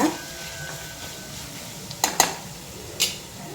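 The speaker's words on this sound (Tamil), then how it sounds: "கொஞ்சம் அந்த பச்சை வாசனை போகிற வரை நல்லா வதக்கிக்கோங்க." Ingredients for ghee rice being stirred and sautéed in a pan, a quiet sizzle under a few sharp metallic clinks of a spoon against the pan near the end.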